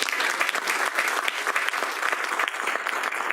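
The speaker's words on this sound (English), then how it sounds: "I just want to clap on that. Please join me." Audience applause at a fireside chat event, a steady dense patter of many hands clapping throughout, fairly close and even in loudness without pauses.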